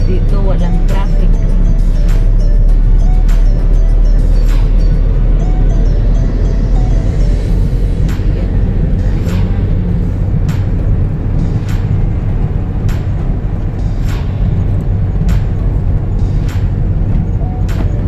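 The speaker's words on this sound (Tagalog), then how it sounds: "maraming mga sasakyan." Cars and other vehicles pass steadily along a road, with a continuous low engine rumble and occasional sharper whooshes and clatters as they go by, while people talk over the traffic.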